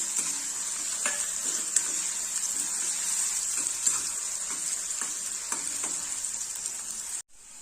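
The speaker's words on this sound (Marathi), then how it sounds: "अगदी हलकासा ब्राऊन त्यानंतर बारीक कट केलेला कांदा" Finely chopped onion frying with garlic in hot oil, a steady bright hiss of sizzling with a few soft stirring clicks, heard close and alone until it cuts off abruptly near the end.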